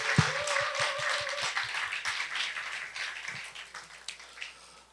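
An audience at a book concert claps after a live musical performance, a light, scattered patter of hands that stays fairly soft and even throughout, with a brief tone at the start and no speech.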